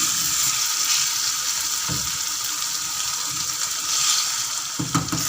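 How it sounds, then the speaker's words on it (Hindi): Chicken liver masala sizzles and fries steadily in a pan on high flame, a loud, continuous crackling hiss with a few brief stirring knocks, close up and with no talking. "दो मिनट हम इसको हाई फ्लेम पे भूनेंगे।"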